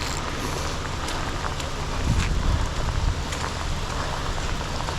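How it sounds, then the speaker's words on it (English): Steady rain falling outdoors during a spring fishing trip before a storm, a constant hiss of drops with some nearer patter and light wind buffeting, no voices. "so it's raining, man. It's raining."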